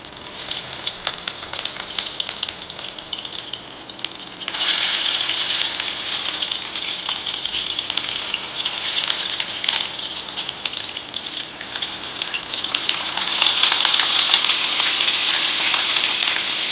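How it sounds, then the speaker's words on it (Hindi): A homemade beef and chicken burger patty fries in hot oil: a steady sizzle jumps to a louder, denser crackle partway through as the patty goes in, then keeps hissing close by without any talk. "ऑयल गर्म हो गया है, अब हम अपनी बर्गर पैटी को फ्राई करते हैं।"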